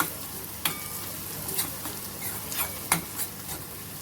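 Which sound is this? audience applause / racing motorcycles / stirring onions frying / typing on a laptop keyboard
stirring onions frying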